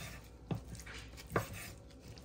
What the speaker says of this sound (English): some of them I am cutting in half and then slicing it in the middle again